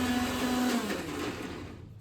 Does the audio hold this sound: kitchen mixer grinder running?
yes